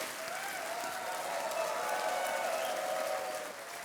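A studio audience on the KBC quiz show applauds steadily for several seconds, a dense wash of clapping at moderate level that tapers near the end, with a host's voice faintly over it.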